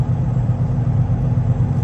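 A truck drives slowly around a snowy, icy yard in minus ten degree cold, its engine giving a steady, close, low rumble with no break and no talk.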